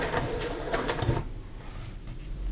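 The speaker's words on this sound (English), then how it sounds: "we're going to sew a half inch seam down both sides that we pinned" A sewing machine with a double needle runs a straight stitch along a half-inch seam on a baby skirt. A quick mechanical whirring burst comes first, then it fades to a quieter hum.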